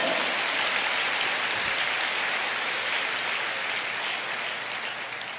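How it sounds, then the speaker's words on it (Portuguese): A church congregation applauds steadily throughout, a dense, continuous wash of many hands clapping that fades slightly toward the end, with no talking over it. "Você pode aplaudir ao Senhor?"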